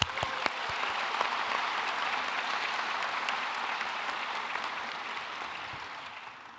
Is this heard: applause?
yes